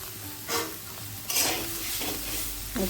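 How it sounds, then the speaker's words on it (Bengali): Fish head frying in oil in a Bengali kadai (wok) while cooking mochar ghonto, with steady sizzling and a few stirring scrapes, close and fairly loud with no talk. "আর দু মিনিট ভাজা হতে থাকুক ততক্ষণ আমি দিয়ে দিচ্ছি মাথা"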